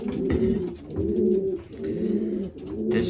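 Racing pigeons coo inside a loft, a close, loud rhythmic rolling coo repeating roughly every second in overlapping phrases, with no speech.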